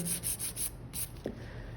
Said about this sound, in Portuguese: Posiciono a lixa reta, em movimento de vai e vem devagar, tá?